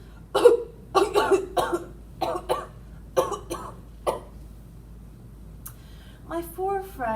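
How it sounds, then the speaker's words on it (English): Coughing fit performed by a voice reading a story aloud: a run of harsh, close coughs in uneven bursts, then a pause before speech resumes. "How long have you had that cough?"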